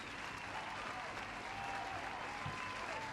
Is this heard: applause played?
yes